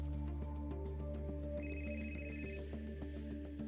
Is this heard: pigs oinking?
no